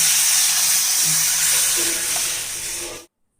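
Hot tamarind rasam poured into a sizzling tempering pan gives a loud, steady hiss and sizzle that fades slowly over about three seconds and then cuts off.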